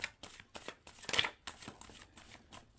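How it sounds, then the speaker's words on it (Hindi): Tarot cards being drawn from a deck, a quiet run of crisp papery flicks and slides, about a dozen short strokes in an irregular rhythm with one fuller riffle near the middle, close by and without talk. "चलिए, कार्ड्स तो निकल के आ गए।"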